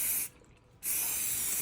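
Spray hisses onto fleece during a Blazer door build, a loud steady hiss that cuts out for about half a second and then resumes.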